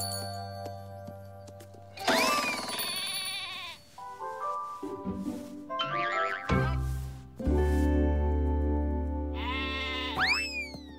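Sheep bleating in a cartoon setting, several separate wavering cries spread across the stretch, each loud and close, with tinkling bells and a low drone between them.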